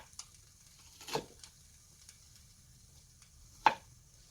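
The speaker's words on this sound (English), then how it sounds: "I'm chopping it real coarse, real big, and irregular too." A red onion chopped coarsely on a board, with a few sparse, soft knife strikes spaced apart in a quiet kitchen.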